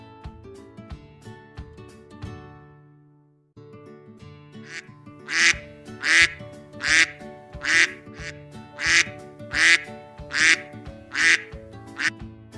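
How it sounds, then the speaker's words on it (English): A duck quacks repeatedly in a steady series of loud, nasal calls, following a brief stretch of music at the start. "duck"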